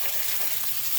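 Burgers for a homemade Salisbury steak dinner sizzle in a hot pan just after flipping, a dense, steady frying hiss that holds close and even through the brief moment, with no talking.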